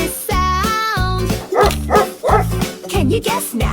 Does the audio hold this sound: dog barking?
yes